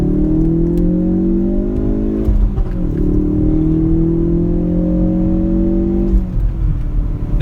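A Ford Focus RS with a turbocharged 2.3 EcoBoost engine accelerating, its loud engine note climbing steadily in pitch, dipping briefly at a gear change and then rising again, heard from inside the car.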